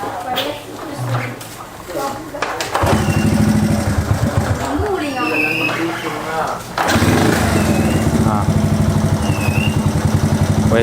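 A Honda C70 motorcycle starts and idles up close with a steady buzzing putter, revving and dropping and then settling again, while people talk over and around the engine noise.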